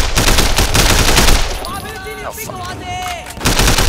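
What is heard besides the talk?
gunfire in the Sleeping Dogs video game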